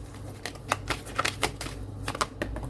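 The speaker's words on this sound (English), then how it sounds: "Let's see if it'll come out if I just shuffle a little bit." Tarot or oracle cards shuffled by hand during a reading, a run of soft riffling bursts and light card clatter close by, with a steady low hum underneath and no talk.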